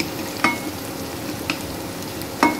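Green chillies fry in hot oil for a vegetable sabzi, giving a continuous close sizzle broken by a few sharp clinks of stirring against the pan, with no talking.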